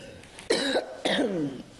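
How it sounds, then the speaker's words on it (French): Two distinct coughs, close and fairly loud, spaced about half a second apart, each with a harsh, breathy burst. "vous êtes toussé?"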